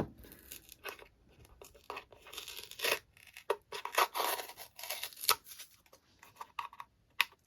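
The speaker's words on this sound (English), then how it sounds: "I will cut another piece to stick on there" Scissors cut a piece of card for a hinged Trick or Treat craft box, with close crisp snips and rustling, scraping paper sounds in irregular bursts and short pauses, with no talk.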